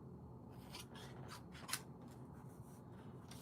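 Scissors snip through card stock for a book binding card in a few quick, close cuts with crisp rasping strokes, heard alone.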